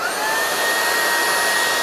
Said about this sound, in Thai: ในการเปิดเครื่องใช้งานก็กดปุ่มนี้แล้วก็เริ่มดูดฝุ่นได้เลย ผมจะเปิดเครื่องนะครับ